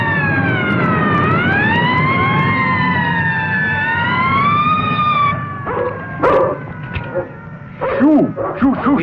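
A wailing police car siren in a cartoon, rising and falling in long sweeps for about five seconds, followed by yelping, barking bursts and brief cartoon sound effects toward the end.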